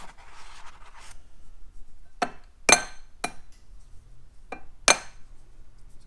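Tough eggs being cracked one-handed against a hard edge in a kitchen, giving several sharp, separate knocks and cracks spaced a second or so apart, close and fairly loud over quiet background.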